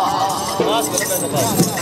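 Horses dance at a horse-dance festival in Khari Rajgan, Azad Kashmir, their hooves clip-clopping in quick rhythm beneath continuous loud speech and crowd noise.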